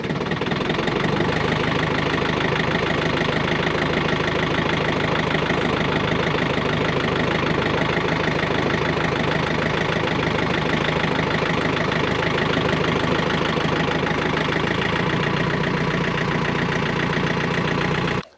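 A vehicle engine runs loud and close the whole way through while driving, a steady rough drone with a knocking, idling-like texture and no talk over it.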